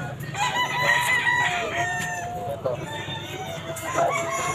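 Roosters crowing amid a busy Grotto pet market tiangge in the Philippines, with several drawn-out cock-a-doodle-doo calls rising over crowd noise and nearby clucking, fairly close and repeated.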